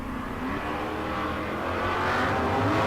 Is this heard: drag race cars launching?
yes